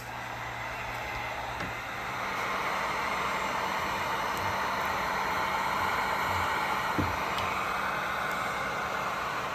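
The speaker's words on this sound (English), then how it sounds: "what we use is a heat gun to melt that wax" A heat gun runs with a steady, noisy airy rush as it melts beeswax cappings on honeycomb during a honey harvest, close and constant with a slight rise after the start and no talk.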